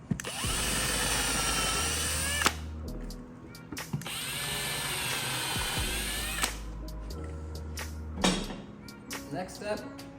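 A power drill drives screws through a lazy Susan bracket into a wooden table top: two long, loud, steady whirring runs, each winding down with a clunk, then a few short taps and clicks.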